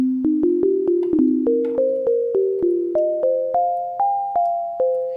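Synthesized gamelan-style pluck notes with randomized fine tuning ring out one after another, about fifteen evenly spaced bright metallic plucks slowly stepping upward in pitch, each decaying into the next.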